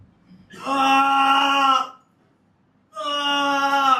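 A man wails in pain from an arrow wound during a stage play, letting out two long, loud, sustained cries separated by a short silence.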